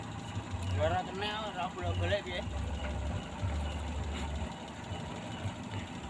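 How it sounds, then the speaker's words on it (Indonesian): Engine of a Toyota Innova idling while its distributor is being adjusted, a low steady rumble running throughout, with someone talking over it. "jadi untuk penyetelan delco ini mesin harus hidup"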